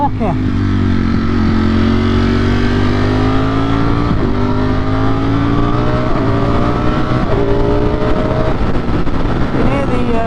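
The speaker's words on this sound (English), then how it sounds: "You can hear the motor changing as you start getting up into them higher RPMs." A 2021 Ducati Streetfighter V4S engine revs steadily upward, its harmonic whine rising in pitch through the higher RPM range, loud and close throughout with brief dips at gear changes, while a rider speaks over it.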